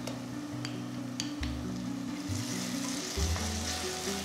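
Steady sizzling of ginger-garlic paste frying with onions in hot oil, close up, with occasional scraping stirs and a low background hum.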